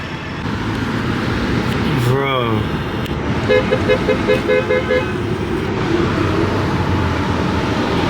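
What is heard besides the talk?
traffic noise at a city intersection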